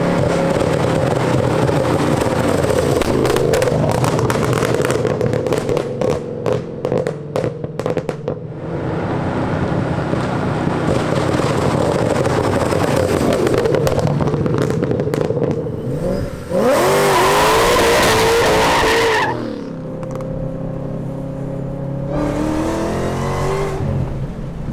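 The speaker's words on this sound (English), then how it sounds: "that is where you get all the pop and crackle sounds that you've seen so much with the car." A Ford Mustang GT500 Super Snake revs hard with rapid bursts of exhaust pops and crackles between the throttle blips. The pops come in loud, sharp clusters, then give way to rising and falling engine sweeps.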